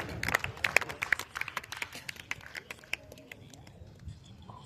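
Applause for a guest rings out at the closing ceremony of a sub-junior softball tournament in Nagaur, as scattered claps from an outdoor crowd that fade out within a few seconds.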